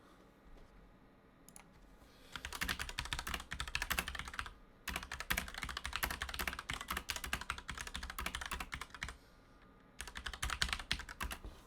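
Someone types an email on a computer keyboard, producing quiet, close, rapid clattering keystrokes in several runs separated by brief pauses, with no speech.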